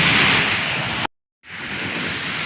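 Sea surf washes against the shore in a broad steady roar, cut by a sudden brief dropout before the wash swells back in, loud and close with no voices.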